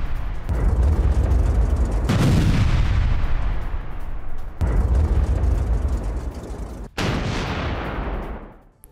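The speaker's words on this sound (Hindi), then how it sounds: "यूक्रेनी हमलों से जोरदार धमाका, ये देखिए आप" Several heavy explosions from Ukrainian drone attacks on Russia boom one after another, with long rumbling decays and a sharp blast near the end, loud and close with no talking.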